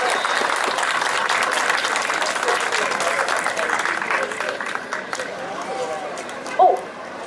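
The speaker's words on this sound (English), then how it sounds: "So a round of applause." An audience at an autism awareness night event gives a sustained round of applause, dense steady clapping filling the room throughout and tapering slightly near the end, with a brief louder burst close to the finish.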